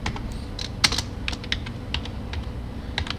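A folder name is typed on a computer keyboard, with close, crisp key clicks coming in an irregular run of quick taps and short pauses.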